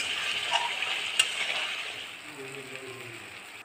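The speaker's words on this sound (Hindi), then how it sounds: "मसाला डालने के बाद अच्छे से चलाएंगे इसको।" Spiced fish masala with small patoiya fish frying in oil in a pan while being stirred, a soft steady sizzle with a couple of light utensil clicks, fading a little toward the end.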